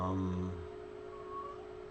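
A house cat meows at the start, a short clear vocal cry that fades, followed by quiet room tone with a faint steady hum.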